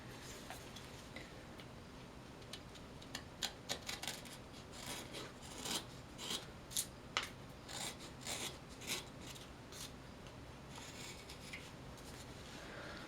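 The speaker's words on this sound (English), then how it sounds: "cutting tool, gouge, whatever you're doing in the cut when it's dry and you're trying to take a really fine shaving" A gouge takes fine shavings from a dry wooden spoon bowl, giving faint, close, crisp slicing scrapes repeated in an irregular rhythm over a soft steady background hiss.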